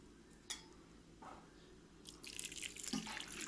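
Water poured into a cooking pot over ginger-garlic paste for ivy gourd and chana dal curry, soft splashes and drips that swell into a steady pouring rush near the end, quiet and close.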